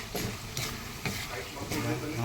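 Food is stirred in a hot pan to keep it from sticking. Rhythmic scraping strokes, about two per second, sound over a continuous close sizzle.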